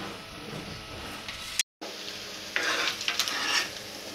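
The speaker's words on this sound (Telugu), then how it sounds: "ఇది ఆయిల్ హీట్ అయిన తర్వాత అప్పుడు ఇవి తీసి పెట్టుకున్న ఎగ్ పీసెస్ ఇందులో వేసుకొని ఫ్రై చేసుకోవాలి" Boiled egg pieces fry in hot oil for egg pickle, with a steady sizzle, scraping stirs and pan clinks. A brief silent gap falls midway, then the frying hiss grows louder.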